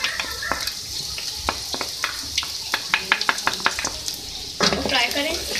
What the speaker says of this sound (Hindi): सबसे पहले ऑयल लिया है, ऑयल में मैं ऐड करूँगी चॉप गार्लिक 1 टेबलस्पून।